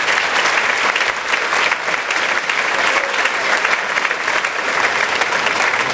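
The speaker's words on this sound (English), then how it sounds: "let's give her another round of applause" Audience at a fundraising event applauds steadily and loudly throughout, a dense unbroken wash of many hands clapping with no talk over it.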